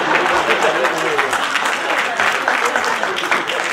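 Audience clapping at a Hindi comic poetry gathering, a lively round of many hands with uneven, bursty rhythm close by, while a voice carries on through the applause.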